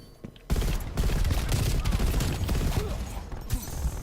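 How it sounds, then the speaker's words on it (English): M16 rifle hip-fire shots in the video game Black Ops Cold War, a loud sustained clatter of rapid gunfire with dense battle noise, starting abruptly and running for several seconds. "A hip fire kill with the M16"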